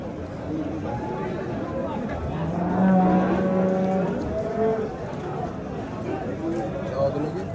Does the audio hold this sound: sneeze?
no